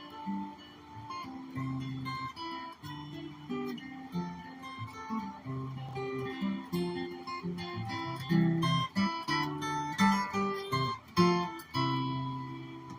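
A Fender Jimi Hendrix signature electric guitar played with a rolling technique, flowing clean notes and chord fragments with rhythmic swells that grow slightly louder toward the end, heard alone without speech.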